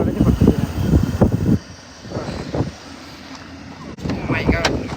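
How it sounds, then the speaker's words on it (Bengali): Strong wind roars and buffets the microphone in heavy gusts during a severe storm in Buffalo, easing briefly before surging again, while someone speaks outside a car over it. "আপনারা দেখেন পরিস্থিতি কেমন আপনার কেমন বাতাস"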